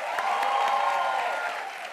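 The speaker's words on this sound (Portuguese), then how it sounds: "Palmas pro Nelo!" Brief, steady wash of audience applause and light cheering for a fashion designer, moderately loud and continuous without clear breaks.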